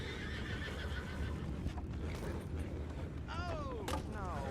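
Horses in Red Dead Redemption 2 whinny loudly over a dense rumbling game background of hooves and distant gunfire, with two sharp descending neighs near the end.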